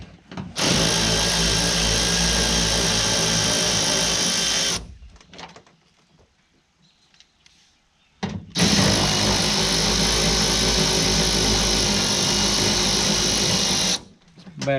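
Cordless battery ratchet with an 8mm socket backing screws out of a 2025 Ram 3500 Limited for mudflap fitting, two long steady buzzing runs of about four and six seconds with a quiet gap between them, very close and loud.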